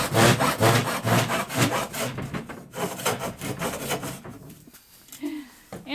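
A hand saw cuts through the wood of an old cabinet with loud, rhythmic rasping back-and-forth strokes, close and steady for most of the stretch. The strokes then slow and thin out, and a brief voice sound comes in near the end.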